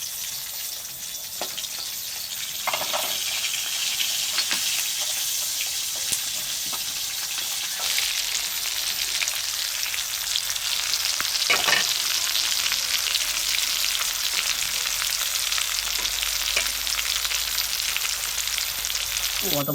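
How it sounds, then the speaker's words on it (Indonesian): Chili, shallots and tomato fry in hot oil for green sambal, a continuous loud sizzle with occasional stirring clatters and brief splashes of water. "Pokoknya gue teburin tuh, gue goreng."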